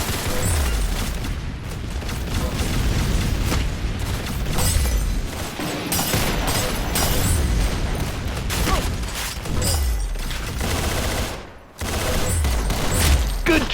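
Rapid gunfire bursts and booming shots in the video game Arsenal, loud and continuous with brief mechanical reload clicks and a short pause near the end.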